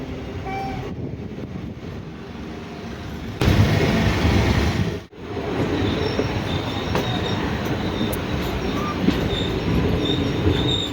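The Karaikal–Thanjavur passenger train rumbles steadily across a river bridge on its way into Nagore station, a continuous loud roar of wheels and carriages with a sharper surge partway through and a brief dip before the rumble resumes.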